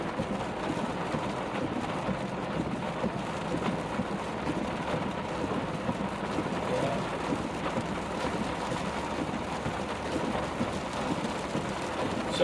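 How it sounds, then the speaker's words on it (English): Heavy thunderstorm rain pounds a car on a highway drive from Pinellas County, Florida, toward Marion, Illinois, a dense steady hiss of drops on the surface with low rumbling thunder beneath, loud and continuous throughout. "Quite the thunderstorm going on here. Oh, and there's the thunder."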